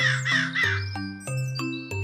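Birds summoned by a magic spell in an animated fairy tale, crow-like caws repeating in a steady series of about six harsh calls, loud and close with a chiming tone in between, no talk.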